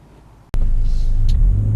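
A 2019 Kia Optima Turbo midsize sedan cuts in abruptly from quiet to a close, loud engine rumble as it drives off, with a deep steady low-end drone and brief higher ticks.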